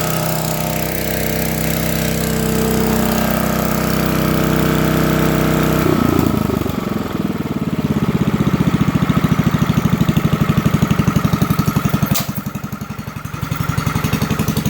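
A 1964 Lincoln Weldanpower 150 welder's engine runs loud and steady, then drops down to a lower, rhythmic idle with a chugging pulse, close by and with no talking.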